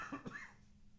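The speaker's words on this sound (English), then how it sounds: "I'm going to have to cough." A single short cough, close and fairly clear, two quick bursts from a throat with a lingering tickle, followed by quiet.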